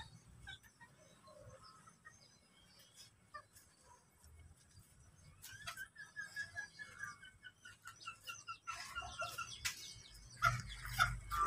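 Ornamental chickens in a coop, including a hen guarding her chicks, give soft scattered clucks that grow busier and louder toward the end, over quiet background noise.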